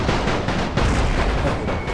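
Artillery and gunfire in Napoleon Total War with a World War I mod, battling as Russia: a loud, dense, continuous barrage of booms and rattling shots that merge into a sustained roar, with no talking.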